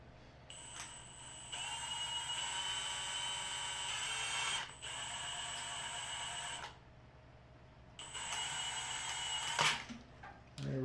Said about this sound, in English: So I'm going to go ahead and drill this out a little bit so that I can get a hold of it.